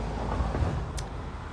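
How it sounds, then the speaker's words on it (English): A car rushes past outdoors, a broad rumbling swell that rises and fades within a moment, fairly close and loud against steady background noise. "Sorry for the car flying by"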